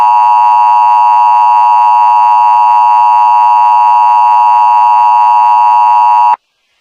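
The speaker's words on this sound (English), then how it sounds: "This is an Roblox EAS public warning system requested by your local authorities." Roblox emergency alert system warning tone from a video game: a loud, steady electronic attention tone holding for about six seconds before cutting off abruptly, with no talk.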